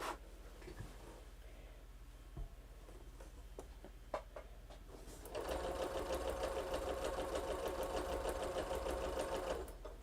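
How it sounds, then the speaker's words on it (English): Sewing machine stitching quilt rows together, running in a steady fast rattling whir for the second half after a few quiet handling taps and clicks; close and alone. "I'm simply just going to sew the last row onto this row"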